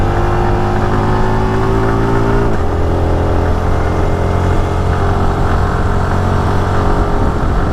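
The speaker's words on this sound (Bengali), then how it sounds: "একটা লোকাল বাইক হঠাৎ করে আমার পিছন দিয়ে চলে আসছে" A local motorbike draws up from behind on a muddy road along the Udaipur border route, its engine droning loudly and steadily; partway through, the engine tone dips as another motor shifts, blending into a continuous hum.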